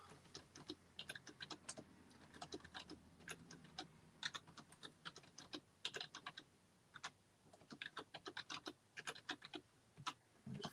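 Fast, uneven keystrokes on a computer keyboard, close and quiet, pattering in bursts with short pauses and no talk.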